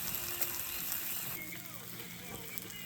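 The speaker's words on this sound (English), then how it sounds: "Put it on there, sizzle it up." Garlic and barbecue sauce sizzle in a hot pan for roast chicken, a close, continuous frying hiss with a few light clicks and scrapes and no talking.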